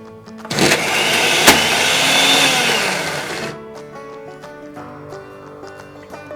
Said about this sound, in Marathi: आपण शिजवून घेतलेलं पुरण मिक्सरच्या पॉटमधून थोडं थोडं करून चांगलं बारीक करून घ्यायचं आहे.